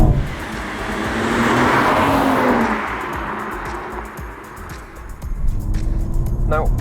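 BMW M240i driven hard, engine note rising as it accelerates, easing off and then building again, heard from inside the car with a light whoosh of road noise.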